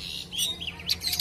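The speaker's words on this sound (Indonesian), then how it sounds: "terlihat cendet sangat gacor di dalam sangkar saat kita lakukan sauna" A caged long-tailed shrike chirps and trills in short, high bursts, close by against a faint background hiss.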